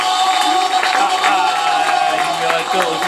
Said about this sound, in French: Applaudissez pour David.